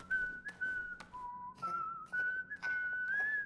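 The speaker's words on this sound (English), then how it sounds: "The whistle does not trail off, which I guess makes sense." A melodic whistle from the video game Donkey Kong Bananza plays as a clear, sustained tune of held notes that shift in pitch, fairly quiet and heard alone, each note stopping abruptly without trailing off.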